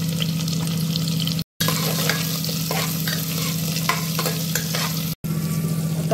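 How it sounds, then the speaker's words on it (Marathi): Onion sautéed in hot oil for a pea and paneer pulao, a continuous sizzle with scraping strokes of a spoon against the pan running throughout, broken by two brief dropouts, over a low steady hum. "त्यामध्ये कांदा टाकून घेऊया, व्यवस्थित परतवून पण घेऊया आपण"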